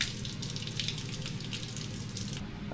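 Water pours steadily out of a rusty part on an old 1954 vehicle, a continuous splashing rush that cuts off near the end.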